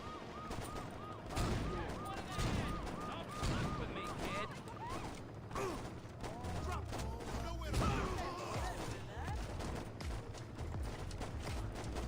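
Gang members open fire in the Saints Row video game, with repeated bursts of gunshots crackling through a dense, busy mix under a voice talking throughout.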